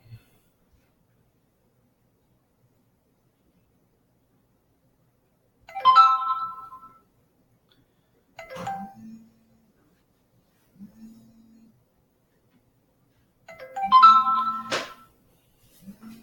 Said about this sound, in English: Sorry, my phone keeps going on